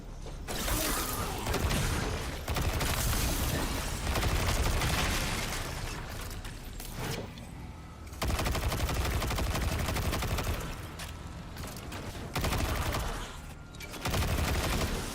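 Micro missiles launch in rapid volleys in Destiny 2, loud bursts of whooshing fire and crackling impacts coming in several clustered waves separated by brief lulls, amid steady combat noise.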